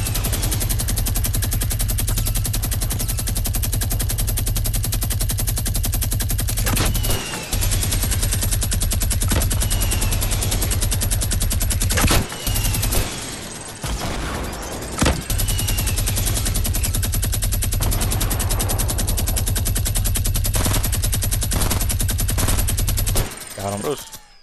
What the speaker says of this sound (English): Start shooting up there, start shooting up there.